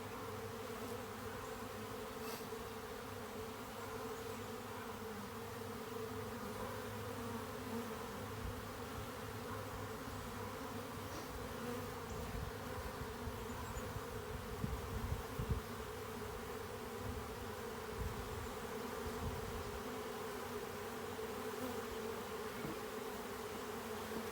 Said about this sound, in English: The bees are gonna work themselves down into the hive.